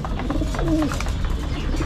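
Pigeons cooing up close, a low throaty coo rising and falling over a steady rustling background, with no talk.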